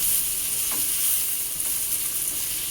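About 400 grams of chopped onions sauté in hot oil in a pan for prawn thokku, making a loud, continuous close-up sizzle with faint stirring scrapes and no talk.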